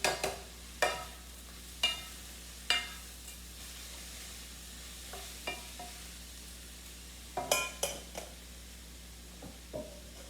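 Spices, rice and lentils are stirred in an oiled pan for a burrito bowl, giving a faint sizzle under a series of sharp utensil scrapes and knocks against the pan, irregularly spaced and close, no talking.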